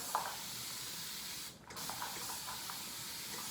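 Water spritzed from a spray bottle to soak a section of curly hair, a steady close hiss that runs throughout with a brief dip midway, no talking.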